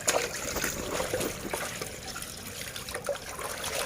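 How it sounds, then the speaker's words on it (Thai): Clothes are washed by hand in plain water in a basin, with close sloshing, dribbling and squelching splashes that continue steadily. "แม่มจะซักน้ำเปล่าก่อน โดยการที่เอาผ้าจากกระมังเนี่ยค่ะ"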